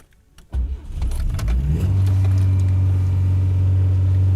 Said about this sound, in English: Hear this engine sound.